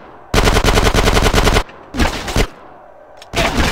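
Automatic gunfire in Grand Theft Auto San Andreas: a loud, rapid rattling burst over a second long, then a shorter burst, a lone crack and a final burst, with no talk over it.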